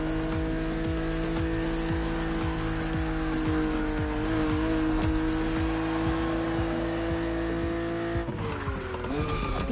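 A BMW Z roadster races in the Motorfest driving game, its engine droning at a steady high pitch with rhythmic tire or gear chatter and a pitch shift near the end, loud and continuous without talking.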